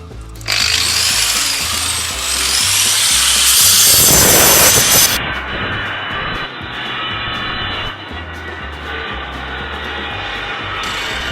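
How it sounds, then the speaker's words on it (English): Angle grinder cutting through the metal spokes of a crab wheel trap, a loud, high, shrieking whine with a gritty bite as it cuts, then dropping to a quieter lingering hum. "The good old grinder comes out."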